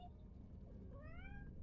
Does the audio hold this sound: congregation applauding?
no